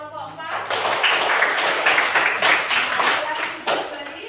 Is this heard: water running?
no